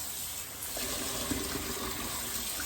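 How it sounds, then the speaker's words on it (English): Potatoes being rinsed under a running kitchen tap, a steady close gush of water splashing into the sink without pause. "Okay, and now we're gonna rinse the potatoes. Give them a nice rinse."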